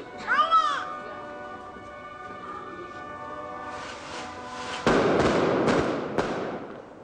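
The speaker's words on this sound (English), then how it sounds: "The daytime fireworks seem strange at first." Daytime fireworks go off during Semana Santa celebrations: whistling rockets rise, then sharp blasts and crackling bangs explode in a loud burst with lingering rumble, amid crowd noise and children's voices.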